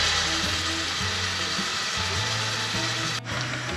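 Tomato paste going into a sizzling sofrito of sautéed pepper, with a continuous hiss of frying and a few faint knocks of utensils against the pot.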